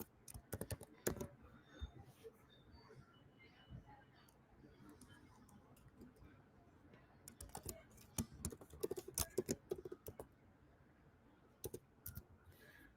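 A password is typed on a computer keyboard in faint, irregular bursts of quick key taps with short pauses between them.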